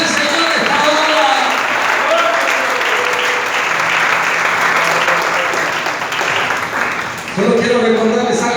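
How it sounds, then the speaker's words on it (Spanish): A church congregation applauds during a sermon, loud, sustained clapping from many people with voices and cheering mixed in, easing slightly before a swell of voices rises at the end. "Regalen la ofrenda de palmas al Señor esta hora."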